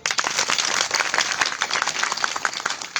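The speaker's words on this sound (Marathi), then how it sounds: "इथं सर्वांना जोरात टाळी वाजव" A kirtan audience claps loudly together, a dense, steady wash of hand claps filling three seconds, close and sustained without pause.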